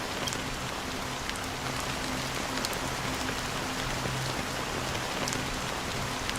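Steady rain patters down across a scene in the video game Honkai Star Rail, a dense, even hiss of drops hitting surfaces that stays constant throughout with no voices.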